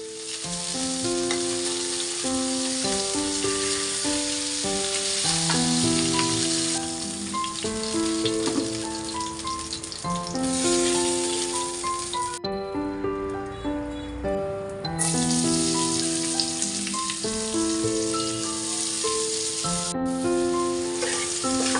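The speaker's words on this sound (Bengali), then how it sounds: "এই মাছটা যেহেতু আমি ভুনা করব তাই খুব বেশি একটা ভাজবো না হালকা ভেজে তারপর উঠিয়ে ফেলবো" Pomfret (rupchanda) sea fish lightly frying in oil in a pan, giving a steady, loud, continuous sizzle throughout with faint crackles and no voices.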